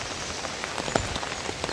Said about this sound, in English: Now I am walking in the rain.